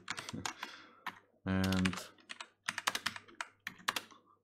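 Fingers type code on a computer keyboard in quick irregular bursts of clicks, with one sustained key-hold stretch in the middle; the taps are close and clear, and a single spoken word briefly interrupts.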